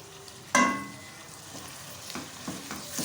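Cumin seeds and green chillies hit hot oil with a sudden loud sizzle that quickly settles into a soft, steady frying crackle, with a few light stirring taps afterward.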